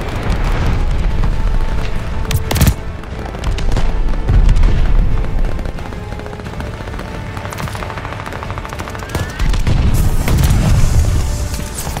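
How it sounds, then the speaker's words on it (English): An enemy glide bomb explodes in a Call of Duty battle: loud, dense booming blasts and crackling gunfire roll continuously, with sharp impacts standing out. "enemy glide bomb coming in hot"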